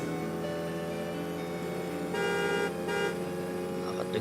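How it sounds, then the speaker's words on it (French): A car horn in the Fortnite video game sounds in long steady toots, with a louder blast near the middle, over a continuous in-game engine hum. "Arrête de klaxonner, c'est pas ça que je voulais faire."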